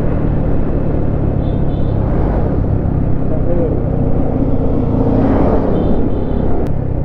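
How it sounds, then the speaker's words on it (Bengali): A car engine labouring up a steep hill road in Bandarban, a loud steady low rumble droning on without a break, with faint higher tones rising briefly above it. "গাড়ির গঞ্জন দেখে তো ঠিকই বুঝতেছেন যে গাড়িটা কোনো পাহাড়ের দিকে উঠতেছে, নাহলে ইঞ্জিন এত সাউন্ড করবে আর গাড়ি এত কম দৌড়বে"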